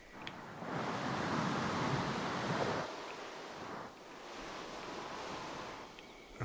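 Waves wash against an island in a video game, a steady soft rushing surf that swells and eases across several seconds, faint and without talk.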